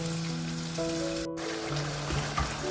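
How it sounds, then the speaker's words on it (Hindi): Masala frying in a pan for butter chicken, a constant hissing sizzle with a steady hum underneath and a couple of soft knocks near the end. "मसाला देखिए हमारा भुनने पर आ चुका है, और इसको हम अच्छी तरह भुनेंगे।"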